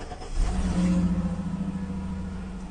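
A passenger car engine idles and runs steadily after starting, a low humming drone with a slight swell in the first second, close by and without talk.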